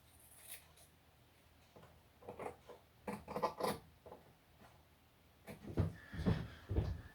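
Scissors cutting through the edges of material during aircraft fuselage reinforcing work, heard as faint, close snips and rustles in irregular bursts, with longer clusters toward the end.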